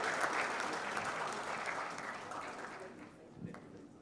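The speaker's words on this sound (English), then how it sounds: "Let's also clap. Let's clap." Audience applause at a talk on money management in Kenya, steady and fairly loud, fading gradually toward the end with a few scattered claps.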